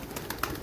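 Pigeons coo close by on a rooftop loft, a few soft, rounded calls in quick succession with no other sound over them.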